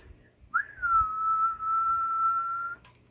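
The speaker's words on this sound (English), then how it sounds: "I'll give it a little whistle and show you." A single sustained whistle into a CB radio microphone on a Radioddity QT60 60-watt rig, a clear steady tone held for about two seconds after a brief rising start, alone against low background.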